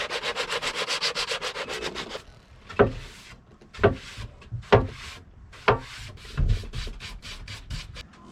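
Sandpaper rubs over wood during a wooden boat restoration on a propane locker, starting with a fast rhythmic back-and-forth scrubbing and then slowing to separate slower strokes with light knocks.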